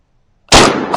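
A hunter's gunshot fired at a fox, a single loud, sharp close blast that breaks a silence and rolls out in a long, noisy echo.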